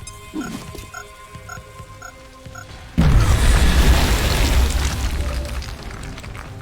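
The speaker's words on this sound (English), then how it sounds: "we could have him still drop his grenade on this guy" A grenade blast in XCOM: Enemy Unknown arrives as a sudden loud boom that rolls into a long rumbling roar, following a quieter stretch of game ambience and beeps.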